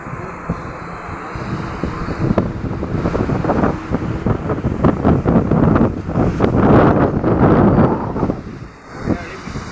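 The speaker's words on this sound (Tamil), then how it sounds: "அலை சத்தம் கேட்குதுங்களா" Ocean waves on a Chennai beach wash in with a broad rushing roar that swells and recedes, mixed with heavy wind buffeting the microphone, loud and close throughout.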